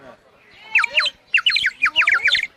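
A person whistles and squawks in rapid bird-like calls near Düden Waterfall, a quick series of sharp chirping bursts imitating a bird, close and loud.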